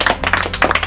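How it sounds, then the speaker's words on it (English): Hands clapping at a house-opening gathering in Jamaica, a quick run of sharp claps repeated in short bursts, fairly close and loud, with no talk over them. "Clap it a bit more, man."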